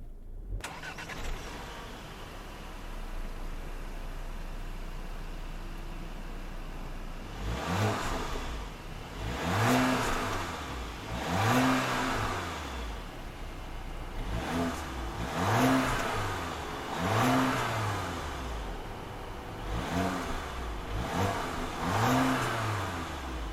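A 2017 Audi A4 quattro engine starts and settles into an idle, then revs up and down repeatedly in steady swells, heard close by.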